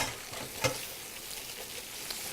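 An egg fries in a pan with a steady close sizzle and crackle, a few small pops standing out over the even frying hiss, with no talking.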